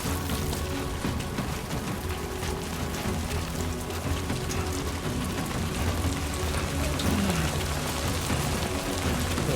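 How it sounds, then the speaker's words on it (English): Hard rain pours down in the video game Death Stranding 2, a dense, steady hiss of downpour lasting throughout with faint game tones beneath and no talking. "Ooh, that's like hard rain too."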